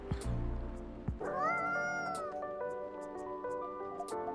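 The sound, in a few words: cat meowing in video game Coffee Talk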